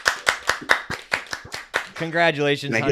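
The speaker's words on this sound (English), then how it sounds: "I think that deserves a great live audience applause" A few people clapping at a podcast recording, about a dozen distinct close claps in an even rhythm, then a voice speaking over the last of them.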